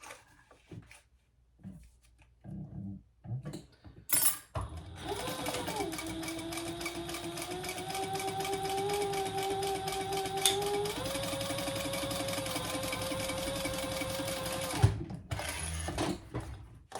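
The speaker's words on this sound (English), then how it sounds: "we're going to sew that together at the full seam allowance" Sewing machine stitching a crossbody bag seam at full seam allowance, starting after a few faint clicks and running steadily and close for about ten seconds, then shifting pitch slightly before stopping with a click.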